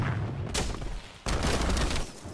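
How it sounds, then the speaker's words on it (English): Enemy gunfire in a shooter video game: a dense, continuous burst of shots under a loud booming wash, briefly easing before another heavy volley erupts. "the guy's just firing randomly and kills me"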